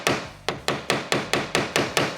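A hammer pounds a Torx bit into a painted hood bolt on a Jeep Wrangler Sport, nine sharp metallic strikes in an even, brisk rhythm, close and loud with no talking.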